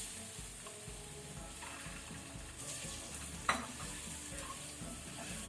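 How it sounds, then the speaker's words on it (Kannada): Eggs frying together with masala in oil over a low flame, giving a steady soft sizzle with stirring scrapes and one sharp utensil clink partway through. "ಈಗ ಲೋ ಫ್ಲೇಮ್ ಅಲ್ಲಿ ಲೈಟ್ ಗೋಲ್ಡನ್ ಆಗೋ ತನಕ ಫ್ರೈ ಆಗಬೇಕು ಎಗ್ ಈ ಮಸಾಲೆ ಒಟ್ಟಿಗೆ"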